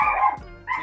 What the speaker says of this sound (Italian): e questo è il cane.